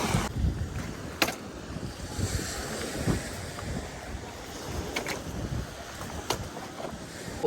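Sea waves wash steadily along the Batangas City coastline in the Philippines, with continuous surf and gusts of wind buffeting the microphone.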